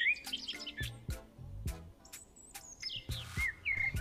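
Several birds chirp and tweet in the early morning, overlapping bright calls and whistles near and far, with soft low background noise between them.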